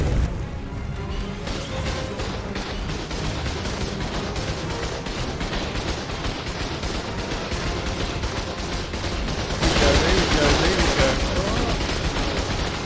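Automated turrets blasting at a Dodo Rex in ARK: Survival Evolved on the Ragnarok map, a dense, continuous barrage of crashing gunfire that swells louder near the end, with no talk over it.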